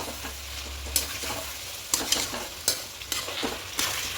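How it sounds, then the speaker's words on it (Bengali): Chicken stir-fried for biryani in a pan, with a steady sizzle of frying under repeated scraping strokes of a spoon every second or so, close and moderately loud. "আরও পাঁচ মিনিট কষিয়ে নেব এভাবে খুব ভালো করে চিকেনটা কষিয়ে নিয়েছি"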